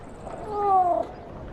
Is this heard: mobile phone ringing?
no